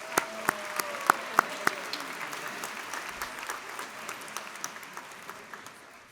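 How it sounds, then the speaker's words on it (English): Audience at a high school graduation ceremony applauding student performers, a sustained wash of clapping from a large crowd with a few sharp nearby claps standing out early, then gradually thinning. "Let's give them a special round of applause"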